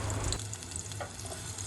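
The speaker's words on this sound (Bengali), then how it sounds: "প্রথমেই একটি রান্নার পাত্রে রেগুলার রান্নার তেলে দিয়ে দিচ্ছি পেঁয়াজ" Chopped onions frying in regular cooking oil in a pan, a steady close sizzle with a louder burst at the start as they hit the oil, then a continuous hiss.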